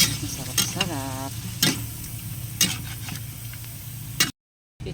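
Ingredients sautéing and frying in a pan, a steady close sizzle with a few louder scraping stirs and a brief voice partway through, then a short cut to silence near the end.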